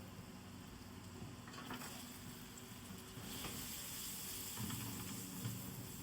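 Garlic frying in a pan gives a steady sizzle close by, with louder bursts of crackle and stirring noise toward the end and no voices.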